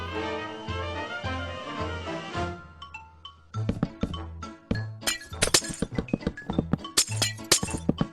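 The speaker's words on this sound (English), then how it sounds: "And I destroyed another wall." In a house-building video game, a wall is destroyed. Soft tonal game music gives way to a rapid, uneven series of crisp clinks, glassy chinks and dull thunks, loud and close, with no voices.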